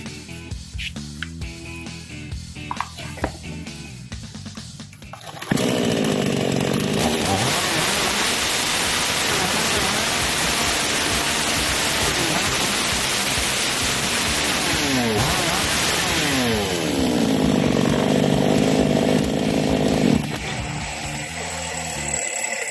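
A Black Bull chainsaw engine starts after a few seconds of quieter handling noise, then runs loud and harsh at a steady high roar for about fifteen seconds before cutting back.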